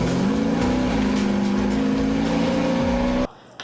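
The Batman Tumbler Batmobile's engine drones loudly and steadily as it drives, holding a low sustained tone with slight pitch shifts before cutting off abruptly near the end.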